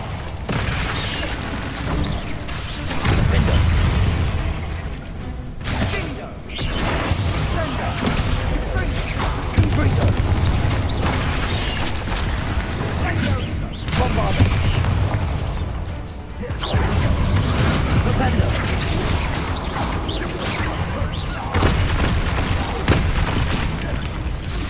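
Repeated Confringo spell explosions in Hogwarts Legacy, a string of loud booms and crashes recurring for nearly half a minute amid continuous battle clatter and effects.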